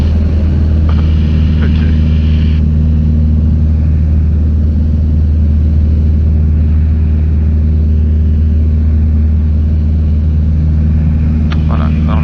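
A light aerobatic airplane engine drones at full power during acceleration, a loud steady low hum heard from inside the cockpit, with a brief spoken word near the start.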